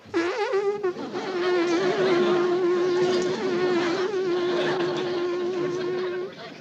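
A voice imitates buzzing bees, small ones, with a steady, droning hum that continues for several seconds after a brief vocal start.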